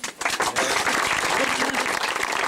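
Audience applause after an under-16 Division 3 Gaelic football final in Leitrim, a dense, loud wash of many hands clapping at once with crowd murmur underneath.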